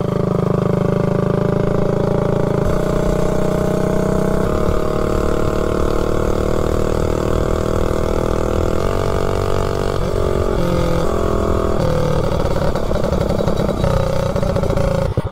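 Small GTS mini bike with a 263 engine revving, its loud close engine rumble and clatter shifting in pitch and intensity as the throttle opens and eases, continuous with no talk.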